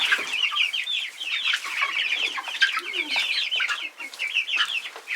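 Young chicks let into an outdoor run for the first time peep and chirp continuously in a busy, high-pitched chorus, close by, with a few soft lower clucks mixed in.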